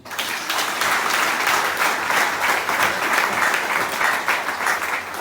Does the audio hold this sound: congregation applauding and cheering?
yes